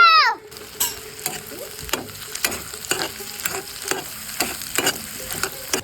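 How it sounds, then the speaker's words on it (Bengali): Chopped chili, garlic, chili flakes and whole cumin fry in a pan with a constant soft sizzle, while a spatula scrapes and knocks the pan in a quick, uneven rhythm, close by. "মরিচ কুচি, রসুন কুচি, চিলি ফ্লেক্স, অল্প কিছু আস্ত জিরা। সুন্দর মতো ভেজে নিব।"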